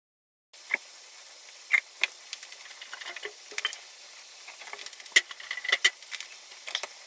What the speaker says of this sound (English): While the meat is cooking here